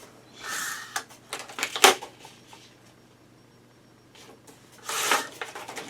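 A paper page from a Stamperia patterned paper pad is cut off for an Alice in Wonderland mini album, giving a few short crisp rustling snips up close, separated by quiet pauses, with no voices.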